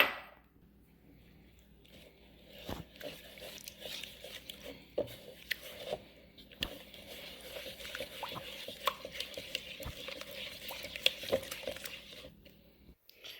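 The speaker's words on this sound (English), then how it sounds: "Now our butter is cool enough to add into our mixture. And we're just going to mix this all together." Melted butter is stirred into pancake batter in a bowl, producing soft, wet, irregular sticky clicks and patters of a utensil working through thick batter, close and fairly quiet.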